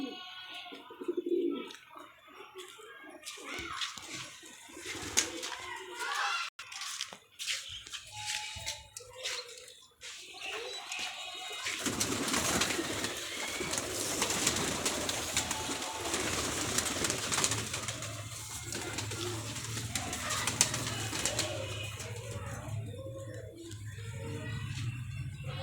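Pigeons coo close by in soft, repeated low calls, joined by scattered chirps and rustling, with a dense wash of bird noise building through the second half.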